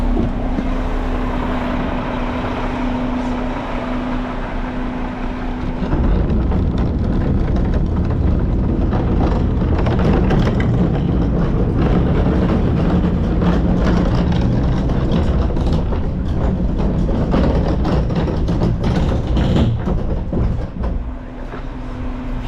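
Garbage truck with containers, engine running steadily as it packs a load while driving, a loud continuous low rumble that swells into heavier mechanical grinding partway through and stays dense to the end.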